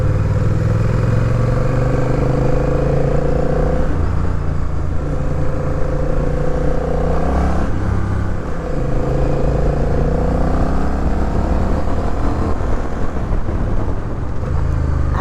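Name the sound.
Honda CMX 1100 Rebel DCT motorcycle accelerating in sport mode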